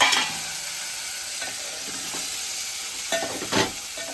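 Spices for fish curry tempering sizzle steadily in hot oil, with a constant close frying hiss and a few louder crackling spurts near the end, without talk.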